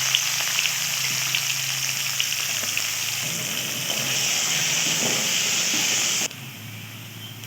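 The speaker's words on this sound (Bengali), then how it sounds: "এবার এর মধ্যে দিয়ে দেবো কুচিয়ে রাখা পেঁয়াজ।" Chopped onions fry in hot oil with whole garam masala and cumin seeds. A loud, continuous close sizzle hisses throughout and softens abruptly near the end.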